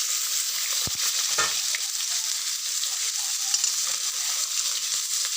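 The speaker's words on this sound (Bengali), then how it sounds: "মাছ ভাজা হয়ে গেছে।" Fish fries in hot oil in a pan, giving a steady bright sizzle with a few soft stirring knocks near the start, close and continuous with no talking.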